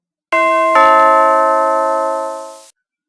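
A two-tone doorbell chime rings once, the second note following quickly and then fading slowly into silence, clear and close with no voices.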